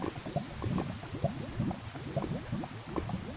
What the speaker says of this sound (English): rain on lava/magma